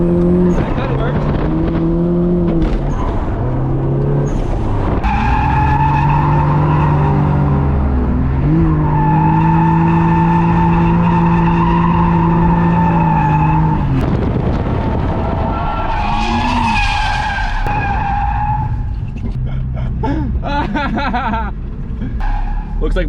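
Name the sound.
cars sliding with tires skidding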